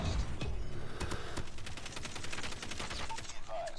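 Rapid automatic fire from the LK gun shot from the hip in COD Mobile, a dense, loud burst of crackling shots rattling continuously for several seconds with a short electronic blip near the end.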